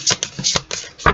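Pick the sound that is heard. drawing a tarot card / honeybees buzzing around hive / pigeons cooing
drawing a tarot card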